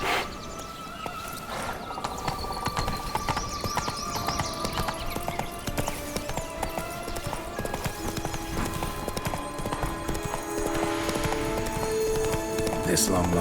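Horse hooves gallop steadily in The Witcher 3, a continuous rapid clip-clop under outdoor game ambience with an occasional whinny, while voices talk over it.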